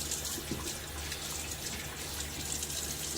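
A tap runs water for pre-shave prep, a soft continuous hiss of flow with faint drips and trickles, steady and fairly quiet throughout.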